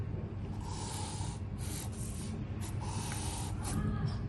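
A marker or chalk scratches across a board while a circuit diagram of an 82C55 interfaced with a stepper motor is drawn; two bursts of rubbing strokes sit over a steady background hum, with no talking.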